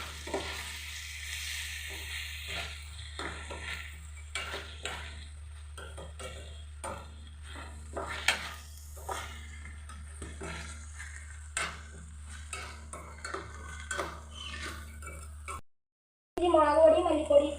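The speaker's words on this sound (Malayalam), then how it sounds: "മുളക് മല്ലിപ്പൊടി ഇട്ട് ഇളക്കി കൊടുക്കാം." Prawn curry with chili and coriander powder is stirred in a pan, giving soft, irregular scraping and clinks over a faint sizzle, while a person talks throughout.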